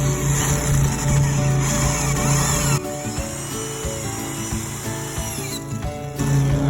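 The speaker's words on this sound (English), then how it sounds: "Start out slow and keep the drill parallel to the ground." A power drill drilling into wood while building a raised garden bed whines steadily through the whole stretch, pitch dipping and surging as it bites in, with a brief pause midway and faint talk underneath.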